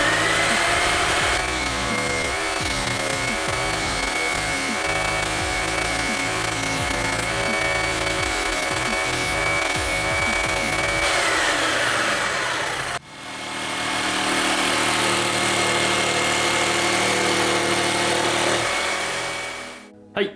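A power tool trims and shapes a wooden circle-cutting jig with a loud, continuous motor whine and grinding. It stops briefly partway through, then runs again steadily before winding down at the end.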